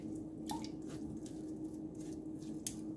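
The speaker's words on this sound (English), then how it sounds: "I prefer using my hand, clean hands, because you get more of the juice out." Clean bare hands squeeze the juice from grated pulp, giving faint, soft wet squishes and drips in a quiet kitchen.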